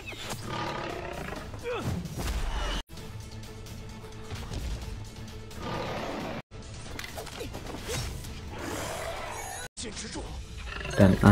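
A bear roars in an animated Chinese donghua fantasy film set in a forest near a village, loud and sustained, with crashing impacts and brief cuts between scenes amid other dramatic sounds.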